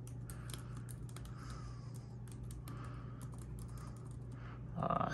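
Someone types the alphabet on a remapped MacBook keyboard, a quick run of soft, close keystroke clicks in an uneven rhythm over a faint steady hum.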